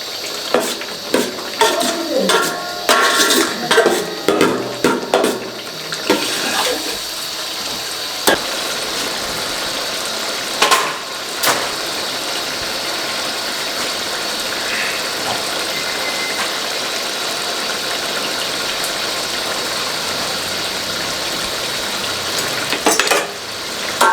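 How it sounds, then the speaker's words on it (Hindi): Chicken koftas sizzle and fry steadily in a pan over a medium flame, with clatters and scrapes of stirring in the first few seconds and occasional knocks after that. "3 से 4 मिनट मैं इनको भून लूँ"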